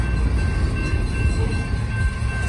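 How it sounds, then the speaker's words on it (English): CFNR freight locomotive working a local switching job at the Beamer Street railroad crossing in Woodland rumbles loud and close, a steady low grinding roar of engine and rolling cars with a faint high ringing tone above. "I think they might be taking this train to Davis."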